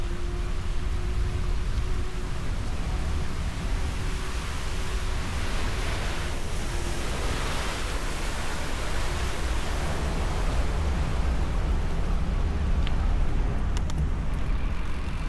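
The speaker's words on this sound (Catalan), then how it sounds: "Ara ja sé com es diu el riu. Es diu l'Ecarol." The Ecarol river near Pas de la Casa rushing steadily as a loud, even wash of water, with faint road traffic blending into the continuous roar.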